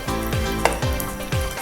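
Bread laid butter-side down in melted butter sizzles in a hot pan, a close crackling hiss with light scraping and clinks of a utensil against the pan, no voices.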